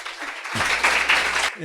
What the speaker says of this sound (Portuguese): pedi uma salva de palmas para o Mário Costa.